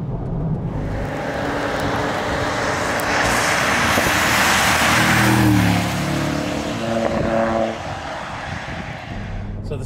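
Mercedes-AMG SL 63 driving in the rain in California, a loud continuous engine drone with tyre and road roar that swells and eases as the car accelerates, close inside the cabin.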